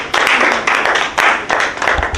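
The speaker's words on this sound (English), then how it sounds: "So a nice round of applause for Zimbabwe." Close, loud hand clapping comes in regular rhythmic bursts, several pulses in a row, like a small group clapping in time.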